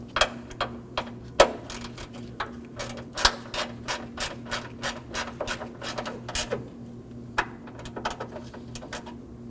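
A hand ratchet snugs up a 10mm bolt on the radiator of a 2014-2020 Acura MDX, giving a long run of quick, crisp clicks in uneven bursts close up, over a faint steady hum.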